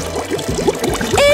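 Water is poured from a container for a bath, splashing and gurgling in a short, close, fairly loud stream that swells toward the end.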